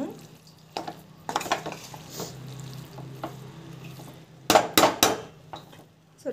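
Soaked poha sautéing in a pan, with a steady low sizzle broken by scraping and stirring clatters, including a burst of sharp spatula-on-pan knocks near the end; no talking.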